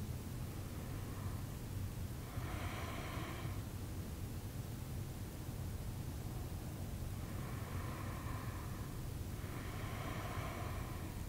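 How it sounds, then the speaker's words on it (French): Slow deep breathing from someone lying still in a yoga pose, faint airy breaths rising and falling in a steady cycle of a few breaths, soft and close, without talking. "Prenez quelques respirations ici."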